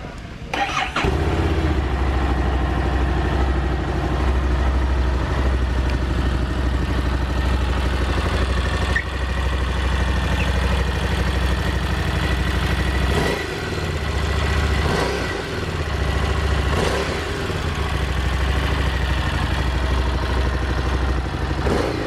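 Harley-Davidson Street Rod XG750A motorcycle (2017) engine starting, catching with a few revs and settling into a steady, loud, close idle that continues throughout with occasional small throttle blips.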